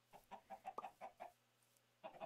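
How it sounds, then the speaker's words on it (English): Minecraft chickens clucking in a rapid burst of short, evenly spaced clucks, a brief pause, then a few more clucks, close and clear with no talk. "kill a couple of chickens."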